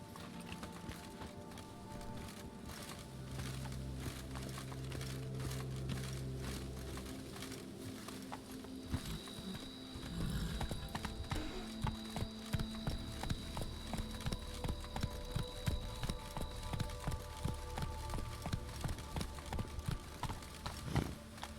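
Roach, a horse in the video game The Witcher 3, gallops with rapid, steady clip-clop hoofbeats that grow sharper and more pronounced midway, set against a constant low rumble of game ambience.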